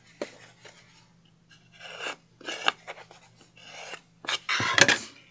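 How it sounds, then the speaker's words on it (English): A spatula rubs and scrapes around the edges of a washi tape craft in short, close, dry strokes, several bursts of rasping friction separated by brief pauses. "I'll take my big old spatula, go around my edges, and just really work those in."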